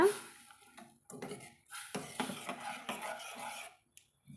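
Scraping and clinking of a spoon stirring spice powders into tamarind curry in a metal pot, irregular strokes close by, with brief pauses between them.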